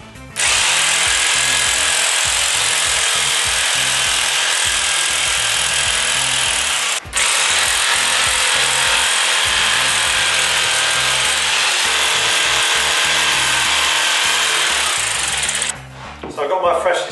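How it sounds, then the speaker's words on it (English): A jigsaw cuts along a scribed line in a length of architrave wood, giving a loud, continuous buzzing rasp close up, with a short pause partway through before the cut resumes and winds down at the end. "we need to cut along that line all the way down, which I'm going to use a jigsaw for"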